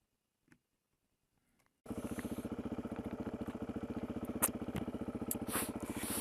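A Suzuki DRZ400E motorcycle starts up a steep hill after near silence, its single-cylinder engine abruptly loud and close with a fast, even thumping pulse and occasional clatter as it climbs.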